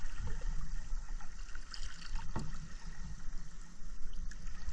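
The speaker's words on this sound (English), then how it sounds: "those little splashes, they keep me cool" Small splashes of water wash against a kayak, a soft, irregular trickle and dribble that stays close and fairly quiet, with no talking.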